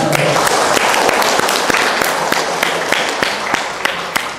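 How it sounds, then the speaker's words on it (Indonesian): Applause from members at an annual cooperative meeting, loud and close, with distinct sharp claps standing out over a dense crowd clapping that continues evenly. "Tepuk tangan."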